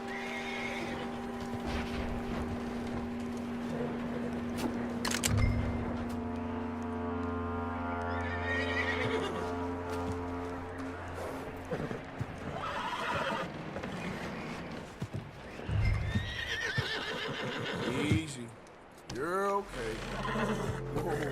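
A horse in Red Dead Redemption 2 whinnies loudly several times, with hoof clip-clop and a low droning game ambience, while voices speak at points throughout.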